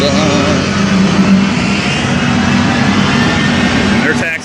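An airplane taxis out at an airfield, its engine droning loud and steady nearby with a rising whine near the end while someone talks over it.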